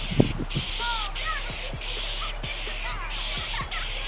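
Spray gun laying a Barcelona red coat on a Toyota Prius part, a steady close hiss broken by short pauses between passes, with occasional squeaks and light taps.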